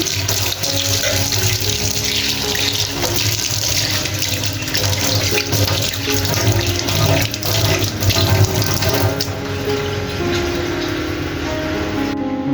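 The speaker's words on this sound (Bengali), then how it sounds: "এই তো সিঙ্কটা সুন্দর করে ক্লিন করে নিয়েছি" Tap water runs steadily into a kitchen sink while it is rinsed, a loud constant splash and gush that carries on for the whole stretch, with small shifts as the flow is moved around.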